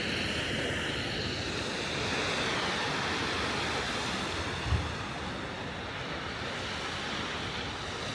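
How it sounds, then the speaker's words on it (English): Ocean surf washes against the cliffs at Point Loma, San Diego, as a steady broadband roar with wind, and a single low boom from water surging into a sea cave partway through. "I keep hearing a booming. Usually that's when the water is going in to the cave area."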